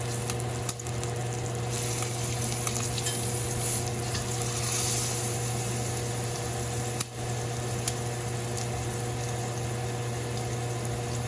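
A whole pork loin searing in a hot pan gives a loud, sustained sizzle with a few brief knocks as it is turned, over a steady background hum.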